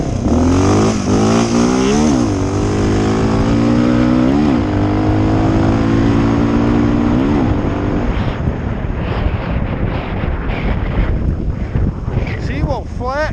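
A tuned Honda 650L motorcycle engine revs hard on a dyno, its pitch climbing repeatedly in rising sweeps before settling into a loud, sustained, rough roar with heavy wind-like noise.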